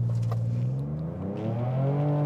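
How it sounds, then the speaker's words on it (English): A 2023 Ford Ranger Raptor engine holds a steady, loud drone during a brake boost launch, its pitch climbing and wavering as revs build over a couple of seconds, with no talk. "We're gonna do a bit of a brake boost launch."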